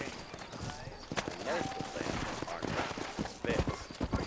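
Horse hooves clip-clop on a town street in the video game Red Dead Redemption, uneven hoofbeats at moderate distance mixed with scattered sharp knocks and faint background murmur.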